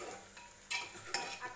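Spoon stirring garlic-ginger paste as it fries in oil in a pan for a Khandeshi dish, with soft scraping, two sharper clinks against the pan and a faint sizzle underneath.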